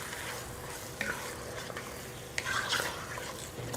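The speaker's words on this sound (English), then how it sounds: "Let's stir that around a little bit." A spoon stirring a basic tomato sauce in a pot on the stove, a continuous close sizzle with scraping strokes and a few knocks against the pot, no talking.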